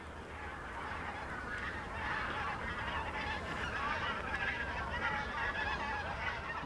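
A large flock of bean geese, white-fronted geese and greylag geese honks continuously at the Łężczok reserve in Poland, a dense overlapping chorus of calls carrying steadily over open ground.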